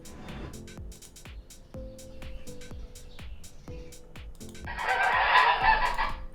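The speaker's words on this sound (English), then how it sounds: "A chicken cluck." An AI-generated chicken sound effect: a steady run of close, sharp clucks at an even pace, with a louder, noisier squawking flurry near the end, and no one talking.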